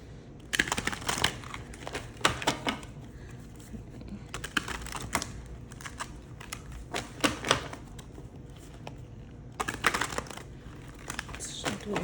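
Tarot cards being shuffled by hand during a reading, producing close, faint riffling and flicking bursts that come in several short clusters with quiet gaps between them.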